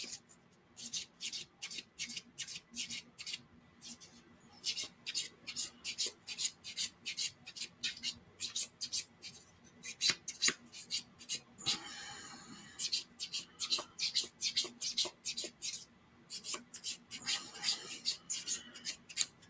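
Rhythmic hand rubbing strokes buff a painted surface, a steady series of soft, close swishes with brief gaps, quiet and mostly alone.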